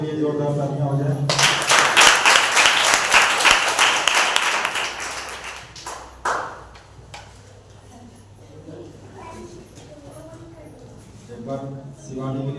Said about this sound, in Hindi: एक बार पवित्र परमेश्वर के लिए जोरदार तालियां हो जाए